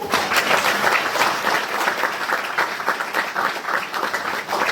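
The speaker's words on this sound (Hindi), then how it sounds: "एक बार जोर से ताली।" A church congregation claps loudly in unison, a dense, sustained burst of applause filling the room for several seconds.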